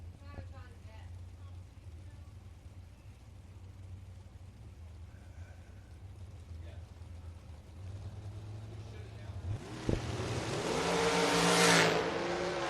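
Ed Quay's drag racing dragster launches at the FRBR Coastal Clash drag strip, its engine surging into a loud, rising roar over the last few seconds after a quieter stretch of track ambience.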